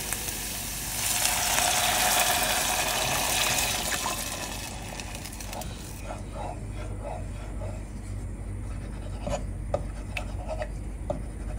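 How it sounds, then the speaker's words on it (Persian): Chicken stock poured into a pan of sautéed mixture for Gilani torsh kabab, a bright watery splashing rush that lasts several seconds up close, then settles into soft bubbling with faint clinks. "1 لیوان آب مرغ رو بهش اضافه میکنیم"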